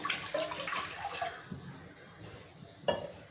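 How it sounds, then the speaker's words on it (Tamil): Water poured into a cooking pot to start a drumstick leaf (moringa) soup, a soft splashing trickle that fades after a few seconds, then a brief splash near the end, with no talking. "ஃபஸ்ட்டு தண்ணி விட்டுக்கிறேன்"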